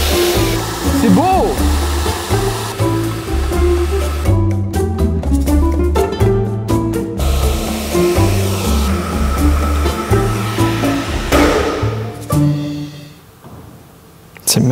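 A hair dryer blows hot air onto melting vinyl paint, a loud, steady rushing whoosh that runs nearly unbroken before dipping briefly near the end.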